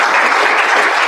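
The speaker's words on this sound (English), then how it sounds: "So I'd like to give them a round of applause." A brief burst of audience applause at a medical speaker series, even dense clapping heard close for about a second.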